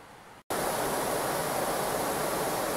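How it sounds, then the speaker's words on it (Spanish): Waterfall spilling from the outlet of the Plandescún reservoir dam, a dense, steady roar of falling water that begins abruptly after a brief near-silent gap and then holds loud and unbroken. "Podemos ver el salto. Este es el salto de agua."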